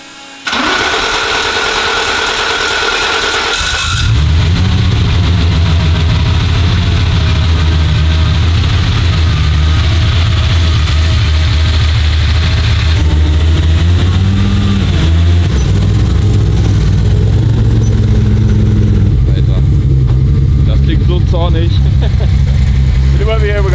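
A Volkswagen Golf engine running on ethanol starts up and then runs loudly close by, with a deep rumbling idle and occasional revving that sounds mechanical.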